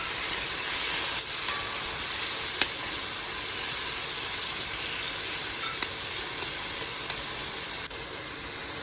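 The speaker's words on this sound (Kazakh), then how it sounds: "Пияз қосып тағы да беконмен тағы да қуырып аламыз." Onion and bacon fry in a pan with a constant, close hissing sizzle and a few sharp crackles, with no talking.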